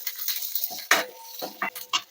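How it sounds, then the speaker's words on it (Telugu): Mustard seeds splutter in hot oil during tempering for a Telugu sambar and bendakaya curry. Scattered sharp pops and crackles come close and fairly loud, in irregular bursts over a steady hiss. "ఆవాలు చిట్పట్లాడుతున్నాయి, వినిపిస్తుంది కదా"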